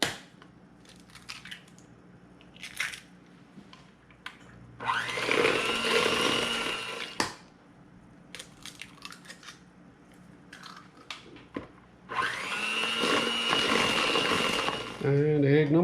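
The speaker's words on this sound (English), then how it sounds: "In a large bowl, add the butter, then the sugar, and give it a good mix." Butter and sugar are beaten together in a large bowl for a chocolate almond cake batter, with two long, loud bursts of an electric mixer whirring between quieter clinks and handling noises.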